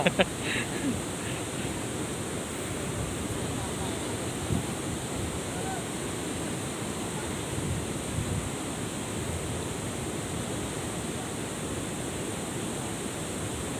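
Water pours over a small weir after days of continuous rain, making a dense, unbroken rushing roar that stays loud and even throughout, with no distinct breaks.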